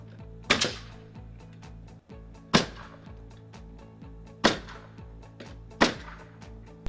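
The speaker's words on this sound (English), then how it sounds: "nail it in with our nail gun" Pneumatic nail gun firing into wood fascia boards, four sharp loud shots spaced over the span against a steady low hum of a running air compressor.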